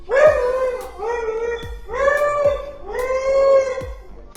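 A dog howls in four drawn-out, wavering cries with short breaks between, close and fairly loud.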